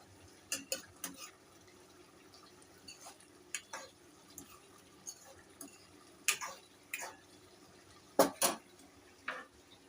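A fish curry seasoned with garam masala is stirred gently in a pan, giving soft, scattered metallic clinks and scrapes of a spoon against the pan, close and fairly quiet, with pauses between taps.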